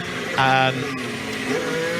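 A Formula One race car engine at the 2023 Canadian Grand Prix whines as it climbs through the gears, pitch rising, briefly dropping at a shift, then rising again.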